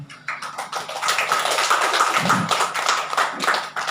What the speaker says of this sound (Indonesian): Sekali lagi kita beri aplaus untuk 3 pemateri ini